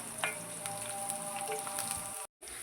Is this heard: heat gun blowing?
no